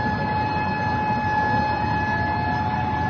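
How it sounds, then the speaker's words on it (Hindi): A loud, steady siren wail with sustained tones drones continuously without a break. "सिर्फ सायरन की आवाज है"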